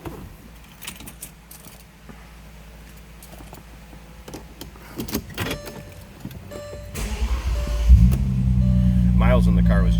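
A 2010 Bentley Continental Supersports engine cranks and starts after some nearby clicks and handling noises, then settles into a loud, steady, deep idle, close by.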